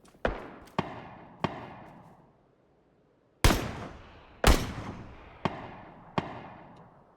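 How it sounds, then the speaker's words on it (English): Gunfire in PUBG on the snowy Erangel Subzero map: sharp single shots ringing out at uneven intervals, three early cracks, a pause, then louder close reports followed by several more, each trailing a short echoing decay. "Now other people are shooting me."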